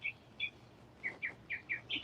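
Birds chirp outdoors in short, bright, repeated calls, about eight quick tweets spaced irregularly over a quiet background with no talking.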